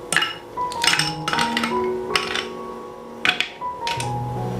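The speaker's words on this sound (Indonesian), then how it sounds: "Kalau sudah, masukkan es batunya." Ice cubes dropped one after another into a glass holding mashed avocado, giving several sharp clinks and clatters with brief ringing tones between them, close and fairly loud.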